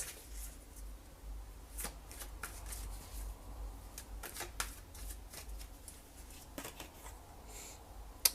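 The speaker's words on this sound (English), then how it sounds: "Let's throw out one more card here" Tarot cards shuffled and drawn close by, with soft riffling and sharp card snaps at irregular intervals.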